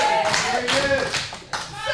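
Live wrestling show crowd clapping in quick rhythmic bursts, fairly close and loud, with a commentator's voice talking over the applause.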